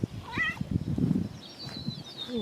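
A farm cat near a barn meows several times, close and clear, over soft rustling and footsteps, with a thin high whine trailing in the background.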